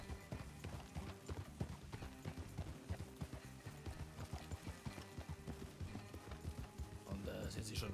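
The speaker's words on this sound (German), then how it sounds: "Ja, ich glaube, da werden Wildpferde verjagt." Wild horses being chased in a panic, hooves clip-clopping in a fast, dense patter with an occasional whinny, mixed with voices talking over the commotion.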